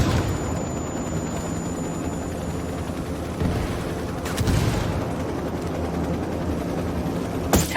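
Apache attack helicopter opening fire in the Ghost Recon Wildlands video game: dense, rumbling battle noise with a couple of sharper blasts standing out, steady and loud throughout.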